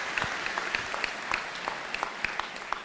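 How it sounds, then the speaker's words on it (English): A crowd at the Denison University 2018 commencement ceremony gives sustained, even applause from many hands, a dense steady patter heard from a distance. "Can we just give him one more round of applause?"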